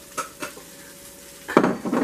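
Two light clinks of cookware, then halved Brussels sprouts land in a hot pan and burst into a loud, close, crackling sizzle.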